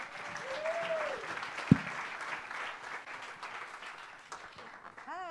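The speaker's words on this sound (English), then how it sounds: "So give a round of applause." A seated conference crowd at the 2019 Burning Man Theme Camp Symposium claps for a presenter. The applause is fairly faint and diffuse, with a few whistled glides, a single sharp knock and some background murmur.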